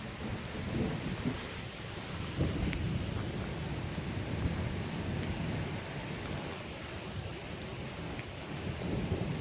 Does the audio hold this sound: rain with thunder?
yes